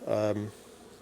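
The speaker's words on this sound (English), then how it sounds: "there were a lot of bees, you know, honeybees actually on the balsam" Honeybees buzzing around balsam flowers at a farm apiary in mid-September: a close, loud drone swells for about half a second and then drops away, leaving a faint background hum.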